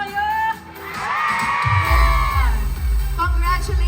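A concert crowd at the Xiaomi All-Star Summer Concert swells into loud shouting, whooping and cheering, rising after a short lull and holding as a dense roar, with an amplified voice heard early on.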